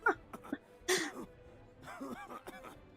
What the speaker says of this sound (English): Majesty, they're coughing up flour as well